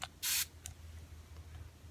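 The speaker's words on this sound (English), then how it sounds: "I'm going to spray it with the Smashbox primer water." Smashbox primer water spritzes once from a pump spray bottle onto a flat makeup brush, a short soft hiss, followed by a faint second puff over a quiet room.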